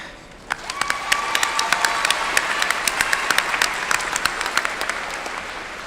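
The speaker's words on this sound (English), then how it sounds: "How about another round of applause for our dean?" Sustained applause fills a high school commencement hall for the Class of 2018, many hands clapping in a dense, steady roar with sharp individual claps standing out, lasting throughout without speech.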